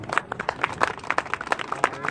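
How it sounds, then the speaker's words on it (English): An outdoor crowd applauds a street performer in Poland at the close of his show, with scattered, uneven hand claps of moderate loudness over a short stretch. "big round of applause"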